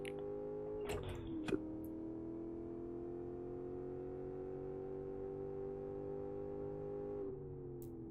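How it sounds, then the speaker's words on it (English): A V8 safety car mod in the racing game Live for Speed holds a steady, quiet engine drone. Brief rev shifts come early, and the pitch drops near the end. "Oh, that V8 sounds awesome."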